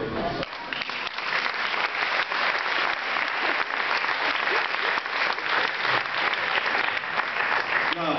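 An audience at an award ceremony for a sports integration prize in Aachen claps loudly and without a break, a dense, even applause that holds for several seconds.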